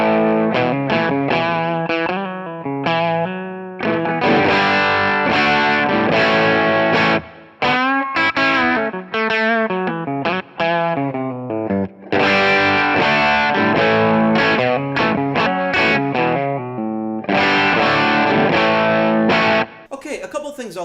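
An electric guitar played through a Kingsley Jouster overdrive pedal rings out with a thick, distorted tone: sustained chords and riffs, loud and continuous, with brief pauses between phrases.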